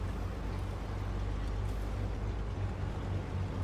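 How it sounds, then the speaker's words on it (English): A truck engine in the video game Snowrunner, driven on hard mode, gives a steady low droning rumble with a constant hum, moderately loud and unbroken, with no talking. "it's almost sounds like the engine is changing its sound"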